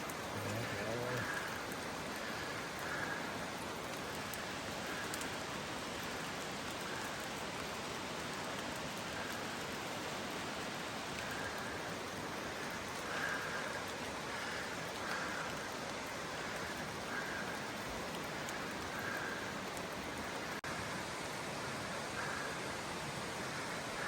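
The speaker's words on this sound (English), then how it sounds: "Good day to be out in the rain." Steady, dense rainfall hisses evenly throughout, a constant wash of drops with no voices and no letup.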